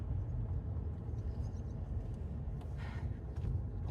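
A car drives along, heard from inside the cabin as a steady low road rumble and engine hum that stays constant throughout, with no talking.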